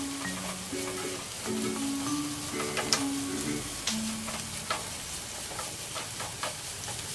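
Pork and tofu sisig with chicken slices stirred in a hot pan, a continuous sizzle under irregular scraping and clinking of the utensil, close and steady throughout.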